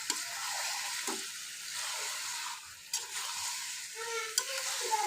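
Small cut and washed fish hit hot oil spiced with black cumin and nigella, giving a steady, bright sizzle with occasional pops and light stirring clatter close by.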